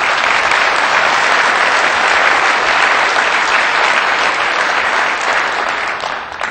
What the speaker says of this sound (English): You owe yourselves a round of applause